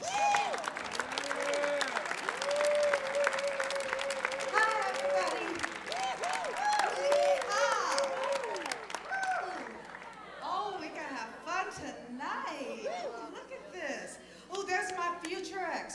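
An audience claps for the cast of a stage musical at the Plaza Hotel, dense applause with some cheering and crowd noise that thins partway through as voices and singing take over in a lively room.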